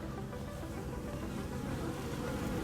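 Honeybees at a newly installed beehive in an apiary on a wine estate, a soft continuous buzzing drone, faint and steady without pause.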